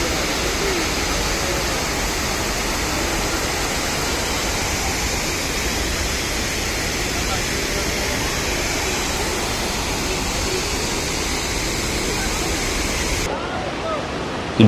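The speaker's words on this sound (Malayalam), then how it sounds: "ഒരു വെള്ളച്ചാട്ടമാണ് ചീയപ്പാറ വെള്ളച്ചാട്ടം" Cheeyappara waterfall in a forest in Idukki pours in a steady, loud, broadband rush of falling water that holds unchanged throughout, with no voices over it.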